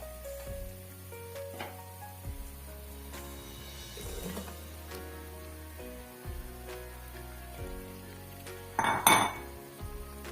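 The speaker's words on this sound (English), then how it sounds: "So next I'm going to add my meat." Meat goes into a metal cooking pot for Taita pilau, giving close clinks and scrapes of utensils against the pot, with a brief louder clatter near the end and a low kitchen hum underneath.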